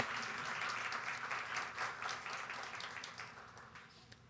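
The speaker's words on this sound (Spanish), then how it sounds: "Denle un fuerte aplauso." A church congregation claps for a few seconds during a Spanish-language sermon, a moderately distant, steady patter of many hands that slowly fades.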